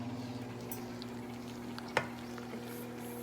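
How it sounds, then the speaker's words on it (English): Turkey bacon sizzles and crackles steadily in a hot pan, with one sharp pop partway through and a low hum underneath. "It's sizzling"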